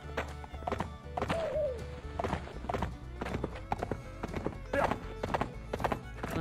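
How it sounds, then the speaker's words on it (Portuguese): Horse hooves clip-clop in a steady running rhythm throughout, with a whinny rising twice over the hoofbeats, in the farm survival video game Survivalcraft 2. "Você toma o cavalo e ele atrás de você."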